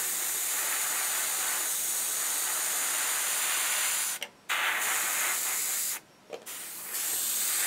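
Airbrush spraying paint onto an Eduard Spitfire model kit at slightly low air pressure, a steady close hiss that cuts out briefly twice before resuming.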